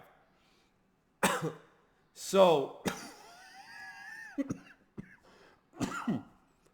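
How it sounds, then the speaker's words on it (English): Several harsh coughs and throat-clearing bursts, close and loud, with brief pauses between them and a short spoken word near the start. "sorry for the cough, y'all. I got this cough that just won't go away"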